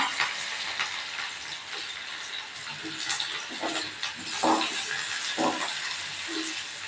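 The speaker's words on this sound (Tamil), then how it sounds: "வெங்காயம் கொஞ்சம் எண்ணெயில் நல்லா வதங்கட்டும்" Onions fry in oil in a kadai with cinnamon and cloves, a soft, continuous sizzle and crackle broken by a few brief clinks and scrapes.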